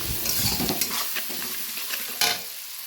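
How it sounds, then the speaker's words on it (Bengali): Chopped onions with a pinch of salt fry and sizzle in a pan for a mutton curry, with a spoon stirring and scraping in bursts over the constant hiss. "ভালোভাবে পেঁয়াজটাকে ভেজে নিতে হবে"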